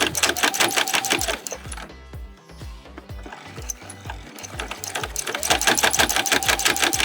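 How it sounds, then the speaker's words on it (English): A sewing machine stitching through layered fabric scraps, its rapid needle clatter close and loud, slowing briefly in the middle before picking back up to a quick, steady run. "I'm going to start sewing again about 1/4 inch from that folded edge"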